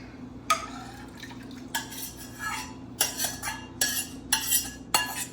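A utensil stirs butter, mushrooms and herbs into a pan sauce for braised short ribs, giving close, soft scraping and clinking strokes against the pan in irregular bursts with no talking.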